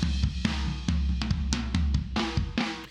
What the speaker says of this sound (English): So the fat mic was over the kick drum, capturing kind of kick and snare with a ribbon mic.